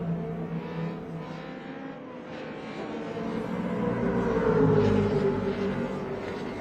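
A Commodore race car is driven through a corner, its engine a distant, rising and falling drone that swells as the car draws nearer and then eases.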